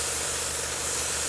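A 0.3mm SG-100 premium airbrush sprays a test burst of atomized paint, giving a steady, even hiss that runs unbroken through the whole short stretch at close range.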